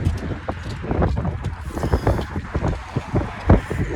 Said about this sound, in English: Ooh, a little windy today.